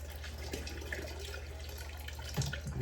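Water trickles and splashes as it drains from jam jars while canning homemade strawberry jam, a soft steady pour with a brief louder splash near the end, no talking.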